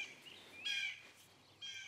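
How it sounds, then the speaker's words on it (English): A bird calls in a garden: two short bursts of high chirping, faint and somewhat distant, with quiet background hiss between them and no talking. "Hello, bird."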